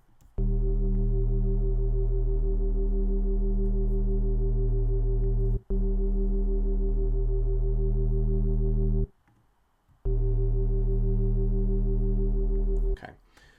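Sustained wavetable synth bass with unison, distortion and chorus, holding a thick low tone in long notes with two brief gaps, loud and alone.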